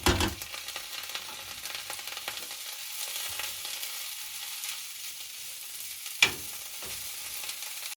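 Curry leaves, coriander and fennel fry together in a pan for a Mangalore-style green chicken curry, a faint steady sizzle with an occasional soft stir and one sharper knock near the end, no speech.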